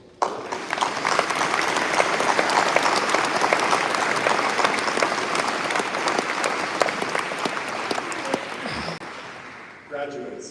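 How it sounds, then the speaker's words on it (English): Sustained audience applause at a graduation ceremony fills the room, steady dense clapping from a large crowd for about ten seconds before tapering off near the end. "Now let's all come together for a round of applause to celebrate all those who have helped our students, our graduates,"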